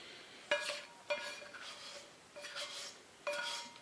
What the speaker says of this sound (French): on vient récupérer ce qui reste dans notre cul de poule